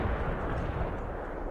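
Artillery barrage in the strategy game World in Conflict: dense, continuous rumbling booms and blasts roll on without pause, loud and close.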